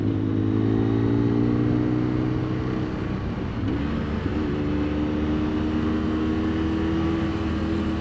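BMW F800 motorcycle engine running steadily while riding, a loud continuous drone with stable harmonics, dipping briefly around mid-way before holding a constant cruising note throughout.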